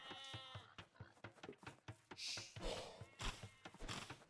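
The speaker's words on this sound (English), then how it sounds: "Of course, Bishop bringing in all the sheep." Sheep in a video game bleat in a string of short calls mixed with soft thuds and clicks, fairly faint, with no voices talking over them.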